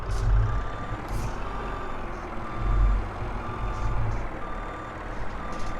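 Skid steer in Farming Simulator 22 backing up, its steady reversing beeps sounding over a low diesel engine rumble that swells twice, with no talk.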